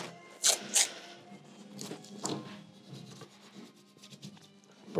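Masking tape being burnished down onto a wooden guitar neck, a few sharp rubbing strokes up close followed by quieter scraping and rubbing, with no voices.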